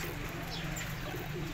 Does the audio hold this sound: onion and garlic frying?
no